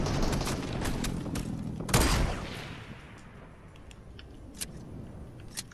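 Video game gunfire rattles in rapid bursts, a dense loud volley peaking around the middle before thinning into scattered single shots over fading background noise.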